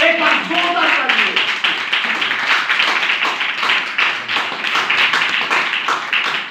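Congregation clapping during a church service, a continuous rhythmic patter of many hands with a voice heard over it at the start, sustained and fairly loud throughout.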